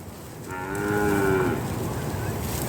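A single cow gives a long, clear moo that rises and then trails off, heard up close on a farm with a faint background hiss.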